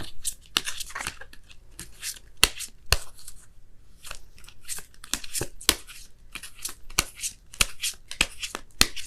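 Oracle cards being shuffled by hand before a romance reading, a run of crisp riffling bursts and sharp card snaps repeating irregularly, close and clear with no talking.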